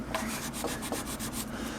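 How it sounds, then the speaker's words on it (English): Steady rhythmic wet sanding by hand on a guitar neck repair, a soft repeated rasping stroke at close range with no voices. "you can dip it in some water and do a wet sanding technique"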